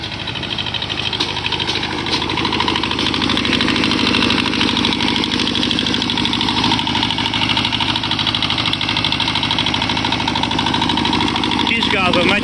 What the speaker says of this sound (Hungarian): Kisgázon megy igazából, motor szépen bírja a marót.